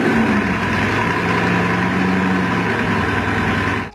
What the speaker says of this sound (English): When you fire it up, the engine rumbles, it's loud, it generates an incredible amount of heat.